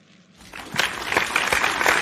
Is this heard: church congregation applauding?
yes